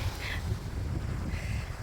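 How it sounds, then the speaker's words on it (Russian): Strong wind buffets the microphone on a bike ride along a country road lined with acacia trees, a steady low rumble of gusts filling the whole moment with no talking. "Сильный ветер."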